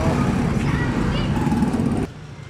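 Motorized tricycles and other vehicles rumble through busy street traffic, a steady close engine drone that drops off abruptly near the end.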